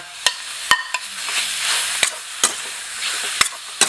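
Beef frying in curry paste in a pan gives a steady close sizzle, with sharp scraping clicks from stirring at irregular intervals and no talk.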